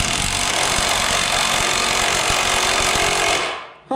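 An impact wrench hammers on the motor mount bolts of a Chevy S10 pickup, a dense continuous rattling buzz up close that runs steadily for several seconds, then cuts off abruptly.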